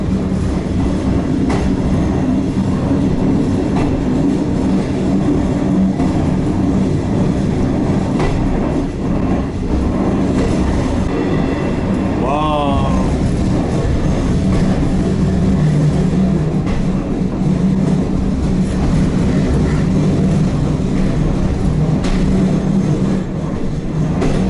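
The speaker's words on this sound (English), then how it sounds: "This train has too much vibrations in it." A railbus with a bad gearbox running along stone-ballasted railway tracks, its steady loud rumble and rattling vibration filling the whole stretch, with rhythmic clicks from the rails and a brief squeal near the middle.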